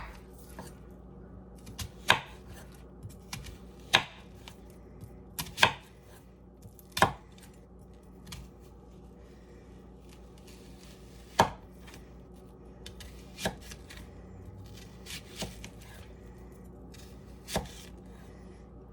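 Knife chopping through an onion for homemade pico de gallo, heard as sharp, irregularly spaced cuts on a board, fairly close and distinct against a quiet background, with no talking.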